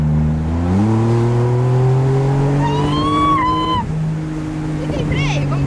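A new Porsche sports car accelerates hard through a curve, its engine note climbing steadily and loud close by, with a brief rising whine and tire noise, while people chat inside over the engine.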